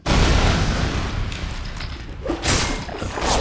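Bombing explosions in the artillery video game Fortress Connected: a loud, rumbling blast opens, followed by further booming bursts a few seconds later, dense and close.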